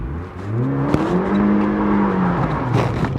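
A car with a limited-slip differential accelerates hard in a small car park, its engine revving loudly and steadily climbing in pitch, close and alone with no talk.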